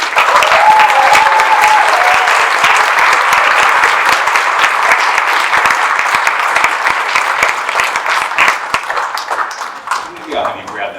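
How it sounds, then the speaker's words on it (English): An audience at a 2023 special needs talent showcase applauds the finalists, with loud sustained clapping and cheering throughout that slowly thins toward the end, and a voice briefly heard over it. "All right, a round of applause for all the finalists."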